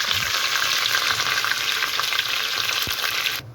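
Curry leaves dropped into hot oil for a tempering crackle and sizzle loudly and continuously up close, a dense frying hiss that cuts off abruptly at the very end.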